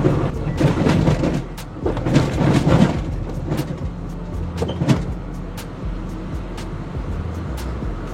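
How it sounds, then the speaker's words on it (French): Steady low road rumble and drone inside a stripped-out Toyota Yaris T-Sport Cup race car on rough pavement, with rattles and sharp knocks from the bare cabin over bumps and no talk. "le fait que la voiture est vidée, ça amplifie bien sûr le bruit, mais c'est vraiment les routes qui sont dégueulasses"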